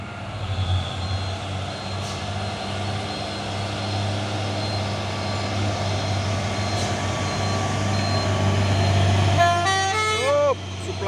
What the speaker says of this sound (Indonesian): Truk box Hino Jember Euro 4 Thermo King.